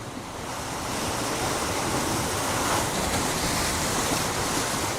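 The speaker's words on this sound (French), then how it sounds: "c'est cette force des vagues contre les rochers" Atlantic ocean surf pounding against rocks on the French coast near Biarritz during big tides, a steady, loud, continuous roar of crashing waves with wind, no voices.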